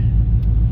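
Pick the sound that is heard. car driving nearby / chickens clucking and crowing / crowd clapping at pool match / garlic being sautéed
car driving nearby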